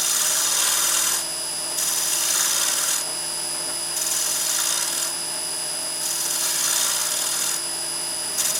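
A woodturning tool cuts fine shavings from a small wooden wedding ring on a lathe, giving a steady, close, high hiss under the constant motor drone, which pulses in regular one-second swells.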